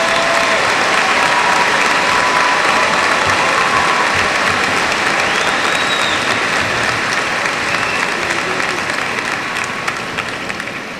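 Loud, sustained applause from a large audience at a 2002 high school graduation, steady dense clapping for about eleven seconds that tapers slightly at the end.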